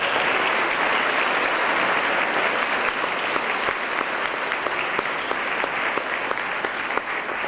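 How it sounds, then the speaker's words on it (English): An audience at a Blaine High School Arrive Alive event applauds a student group, steady sustained clapping from a large crowd with a few sharper individual claps standing out, continuing evenly throughout. "I just would love to have a round of applause for my group up here."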